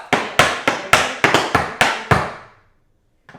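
Tap dance shoes strike a hard floor in a quick run of about nine sharp, ringing taps done as flaps and riffs, close and loud, then a pause and one faint final tap.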